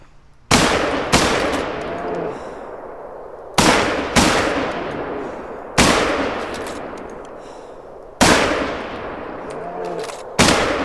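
Rifle shots at bears in The Hunter: Call of the Wild, including a .270, crack out five times at irregular intervals, each loud report trailing into a long echoing decay across open terrain.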